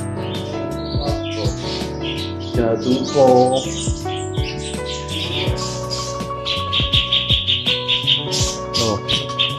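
Captive breeding songbirds in a bird farm's aviary chirp and whistle in overlapping bursts, some loud and close, with someone talking between the calls.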